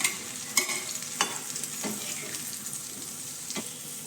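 Onions tipped into a pan of oil where green chillies are already cooking for a vegetable masala, giving a steady sizzle broken by several sharp clinks and scrapes of a stirring spoon; no voices.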